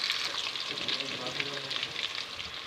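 Ginger-garlic paste sizzling in hot oil in a pan for a home-cooked radish curry, a close, steady bright crackle and hiss.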